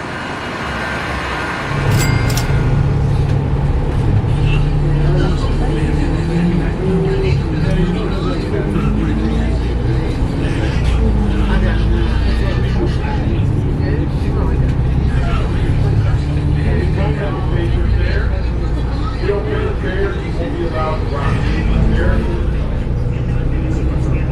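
Ride aboard a Deuce transit bus in Las Vegas, with a steady engine drone and road rumble throughout, interior rattles, and scattered passenger chatter in the background.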